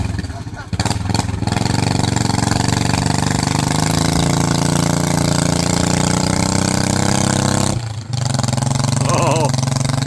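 A Skycycle motorcycle engine climbs toward the top of its run in second gear, a loud, sustained droning rev that holds steady with a brief dip near the end, nearby and dominant with some voices underneath.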